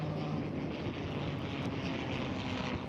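A propeller-driven P-51 Mustang fighter passes at an airshow, its loud, steady engine drone filling the scene with a wavering tone and no voices.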